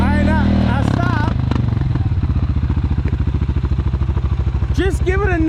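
ATV engine revving as it spins around in place, a loud rapid pulsing thrum held close and steady, with people talking at the start and end.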